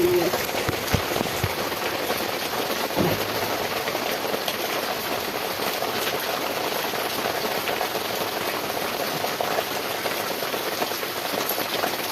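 Rain falls steadily on surfaces, a close, continuous pattering hiss that lasts the whole stretch, with a low rumble and a few brief knocks near the start.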